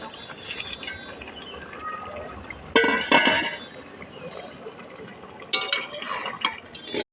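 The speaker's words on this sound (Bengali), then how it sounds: "এবার মাছগুলো আমরা দিয়ে দেবো" Tangra fish go into a bubbling curry gravy, with two short bursts of splashing and hissing sputter standing out above a low simmer, close by and with no talk.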